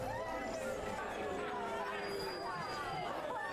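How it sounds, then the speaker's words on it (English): An excited crowd cheers and chatters in a continuous lively babble, with several overlapping voices rising and falling at moderate loudness. "So you hear the crowd cheering, and they all seem rather excited"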